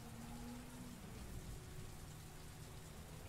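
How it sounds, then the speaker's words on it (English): Steady rain in the game Heavy Rain: Remastered hisses evenly throughout, a soft continuous wash of droplets with a faint low tone beneath, quiet and unbroken. "More rain."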